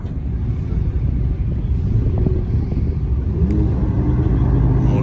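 A Dodge Demon SRT or McLaren 720S drag racing car, a loud, continuous engine rumble that swells slightly toward the end, heard from the street alongside wind buffeting the microphone.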